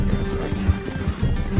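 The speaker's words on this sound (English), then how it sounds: "That's like the 17th time a horse has bucked me off or I've gotten thrown." A horse in the video game Red Dead Redemption 2 bucks a rider off, heard as a brief burst of close hoof thuds and snorting, fairly loud and without speech.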